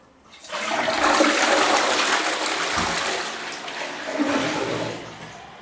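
A newly installed toilet on a tiled floor is flushed, a loud close rush of water that swells quickly, churns steadily, then gurgles and tapers as the bowl drains.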